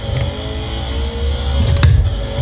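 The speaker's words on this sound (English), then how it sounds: "engine rumbling a little bit" A racing video game car engine rumbles steadily at low pitch, close and loud, swelling slightly near the end with a brief mechanical click, played through a Thrustmaster T598 wheel setup.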